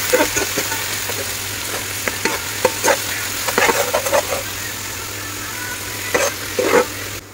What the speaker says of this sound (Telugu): ఆయిల్ హీట్ అయ్యింది, ఆనియన్స్ వేసుకుందాం. అదేవిధంగా పచ్చిమిర్చి కూడా వేసుకొని ఫ్రై చేసుకోవాలి.